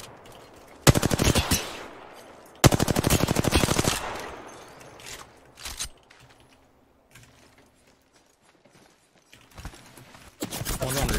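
Rapid automatic gunfire bursts in the Apex Legends battle royale game, loud and close, in several separated volleys with quieter gaps between, and game sounds and a voice faintly underneath.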